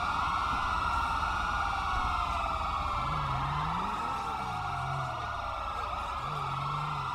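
Police car sirens wail in the LSPDFR video game, several overlapping siren tones sweeping up and down loudly and continuously, with another low rising wail joining partway through.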